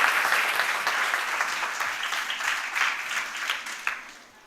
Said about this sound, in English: So can we also give him a big round of applause?